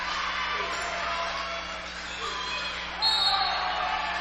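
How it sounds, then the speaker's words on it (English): Home crowd of Bluffton fans cheering at a high school girls basketball game in a gym, a steady roar of voices that swells louder near the end, with an announcer talking over it. "the Bluffton faithful rising to their feet to cheer on these girls"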